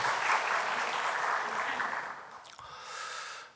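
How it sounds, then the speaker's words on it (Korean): A church congregation at a Sunday worship service claps in a warm burst of applause, steady and fairly close, fading out toward the end before a brief quieter patch. "감사의 큰 박수를 보내주시기 바랍니다"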